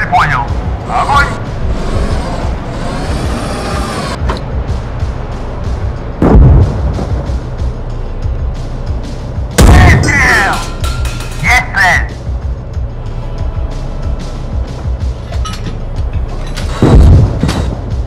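Three heavy tank cannon blasts from a T-62 in the video game GHPC boom at intervals amid engine rumble, with brief Russian radio-like crew chatter between shots.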